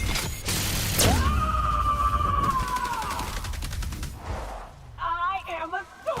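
Gunfire in a video game: loud rapid bursts and mechanical clatter, with a sweeping electronic tone and later game effects, mixed with speech.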